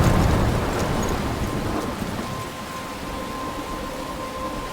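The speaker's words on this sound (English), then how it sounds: "I'm trapped in a storm?" Thunderstorm in the video game Life is Strange, steady heavy rain hiss with a low rumble of thunder that fades slightly after the opening, with no voices.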